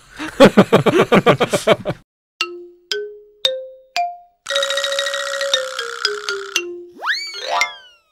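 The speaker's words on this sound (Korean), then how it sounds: "이재명 후보한테 전화를" Electronic ringtone-style tones from a phone call placed to a presidential candidate: a rapid warbling burst, then several short rising beeps and a longer chiming passage, ending in a swooping flourish, with no talking.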